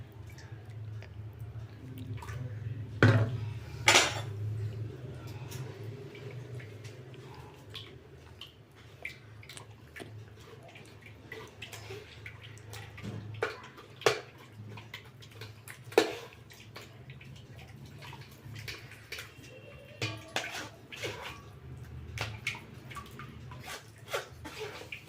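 A finely ground paste of coconut, jaggery and cardamom is strained for its milk, making soft wet squishes, drips and trickles. Occasional sharper splats and knocks stand out near the start and middle, close and without speech.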